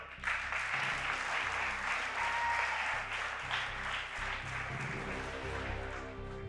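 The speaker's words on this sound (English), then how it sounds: "big round of applause for our next driver" Audience applause for a driver being introduced at the quarter-final races of the 2022 FIA Motorsport Games esports event: a dense, steady wash of clapping from a crowd, sustained and fairly loud throughout, with music running underneath.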